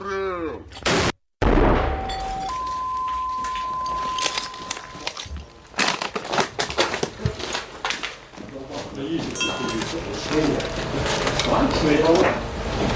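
A mortar fired by a crew of Ukraine's 59th Brigade in the field: a sharp, heavy blast followed by crackling, ringing aftermath and rustling movement, with people speaking nearby.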